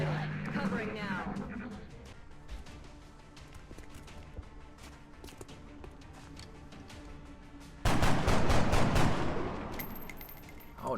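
Soldiers trade gunfire in the turn-based strategy game XCOM: Enemy Within, running the Long War mod on Impossible Ironman, with scattered sharp shots through the first half and a louder, dense burst near the end, and a voice talks over it.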